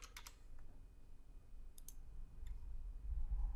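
Faint, sparse keyboard clicks and taps on a computer during a Photoshop session, a few quick strokes in clusters over low background hum.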